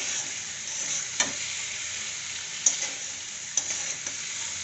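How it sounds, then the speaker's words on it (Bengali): Cumin, coriander and nigella seeds sizzle steadily in hot oil for a Bengali potato-and-fish curry, a continuous bright crackle with a few sharper pops and stirring clatters, close and without talk. "জিরে, ধনে, কালো জিরে ফোড়ন"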